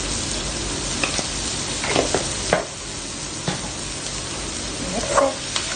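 Onion, chili and garlic with salt sizzle steadily in a hot pan, with a utensil scraping and stirring through them in several clear strokes, close up and without talk.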